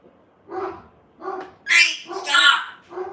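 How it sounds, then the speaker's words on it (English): Pet dogs bark in short repeated bursts close by while a cockatoo lets out harsh, shrill squawks between and over them, loud and busy indoors. "You're probably about to hear my dogs bark."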